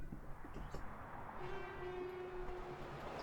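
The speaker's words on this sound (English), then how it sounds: "Bullet train." A bullet train in an anime episode rushes past with a steady low rumble, and a thin, sustained horn-like tone sounds briefly in the middle. The whole passage is faint and distant.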